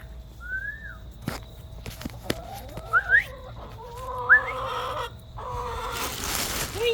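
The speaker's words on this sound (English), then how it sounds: "Hey, birdies. Come on, birdies." Backyard chickens cluck softly and make a few brief whistly calls nearby in a quiet coop, with no talking.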